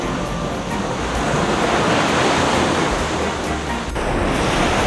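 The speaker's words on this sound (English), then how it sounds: "The sound of cicadas, all the insects and birds mixing in with the ocean right here" Ocean waves wash steadily onto a quiet beach at Sayulita, Mexico, a continuous close roar of surf with insects and birds faintly mixed in behind it.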